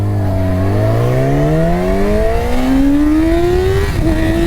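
Yamaha YZF-R6 sport bike on Dunlop Sportmax Q4 tires accelerates hard in first gear, its loud high-revving engine climbing steadily in pitch. The engine is close and drowns out everything else, with a brief dip near the end.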